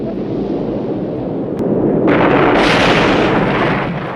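A massive gas station explosion in the film Rambo: First Blood, a loud rumbling blast that surges and intensifies midway, then holds a sustained roaring fireball tail.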